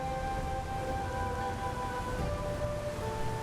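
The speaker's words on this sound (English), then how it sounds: "I'm hearing rushing water." Rushing water and wind in the video game The Pathless, a steady, dense wash of noise that continues without a break, with faint sustained musical tones running underneath.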